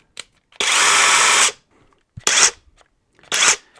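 A cordless 1/2-inch impact wrench motor whirs in short bursts: one sustained run of about a second, then two brief spins, loud and close, with silence between.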